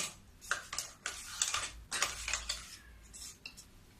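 A spoon stirring raw full cream milk in a metal vessel gives a run of quick, light clinks and scrapes, close and fairly quiet, in uneven bursts.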